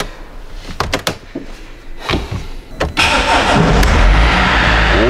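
A Mercedes Sprinter van with a freshly replaced starter motor cranks through a few clicks and short bursts, then the engine catches and settles into a steady, loud idle up close.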